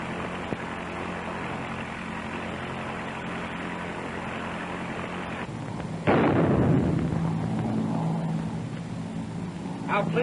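A propeller airplane in a 1930s aviation serial drones steadily overhead, a continuous engine roar that jumps suddenly louder about midway and then eases, with voices talking briefly over it.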